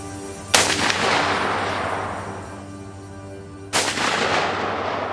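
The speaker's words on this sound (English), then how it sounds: "we're going to try to hit this target with 5 rounds, taking our time to aim" Two sharp rifle-type gunshots fired at a target on an outdoor range, each a loud crack followed by a long echoing decay, spaced about three seconds apart with no talking.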